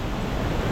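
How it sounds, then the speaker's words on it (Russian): Steady broadband rushing water, a dense continuous roar from a nearby waterfall in Pakistan, with no voices. "это наш водопад"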